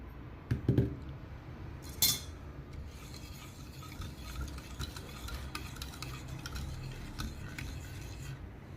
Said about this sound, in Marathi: आता वेलची पावडर मिक्स करून घेऊया